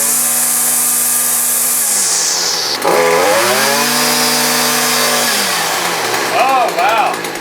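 String trimmer spinning its cutting line through grass, first with round line and then twisted triangular line, a loud steady high motor whine whose pitch drops and settles as load changes, with a brief shift partway through.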